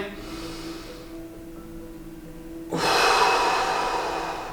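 A deep inhalation during a breathing exercise for idiopathic pulmonary fibrosis patients, heard as a close, steady breathy rush that swells suddenly partway through and holds for over a second, with no speech over it.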